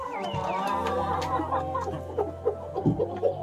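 Chickens in a coop in Uttarakhand cluck and murmur at close range, with a steady low drone underneath and a few sharper clucks toward the end, no speech.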